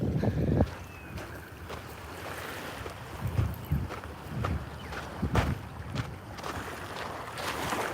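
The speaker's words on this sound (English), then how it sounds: "Oh, it's a bit windy, guys." Gusty wind rumbles across an outdoor microphone at sunrise, steady broadband buffeting with repeated low thumps and swells, near and fairly loud throughout, no one speaking.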